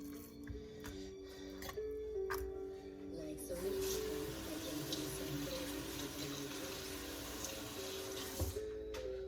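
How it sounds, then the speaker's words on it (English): Pork chops rinsed under a running kitchen tap, with a steady, continuous rush of water into the sink for the whole stretch and faint background noise beneath it. "I'm going to rinse that up"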